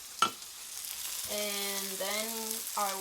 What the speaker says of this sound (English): Got butter all over with the last little bit of butter. Let this sizzle up